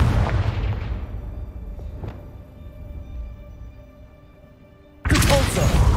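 A fire-blast spell explosion in the Hogwarts Legacy video game, heard as a loud, dense booming burst that fades into a low rumble before a second sharp blast erupts near the end.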